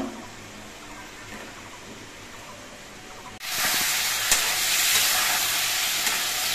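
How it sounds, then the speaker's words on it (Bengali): Chicken pieces fry in oil on a gas stove for a yoghurt chicken dish, starting as a low background hiss that jumps abruptly into a loud, steady, close sizzle partway through. "চিকেনগুলো গ্যাসে ভাজা হচ্ছে"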